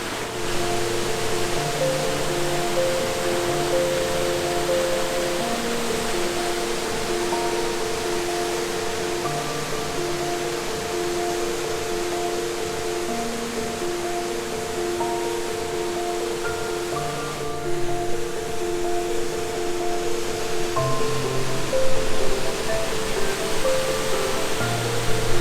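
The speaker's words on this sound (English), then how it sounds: "Now this waterfall is pretty impressive on itself," Superior Falls in Gogebic County, Michigan, a waterfall pouring into a rocky bowl, gives a steady, loud, broadband roar that runs unbroken throughout. Soft melodic tones sit faintly over the rushing water.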